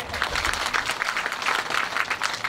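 An audience at a devotional storytelling event claps in a continuous, moderately loud patter with uneven bursts throughout.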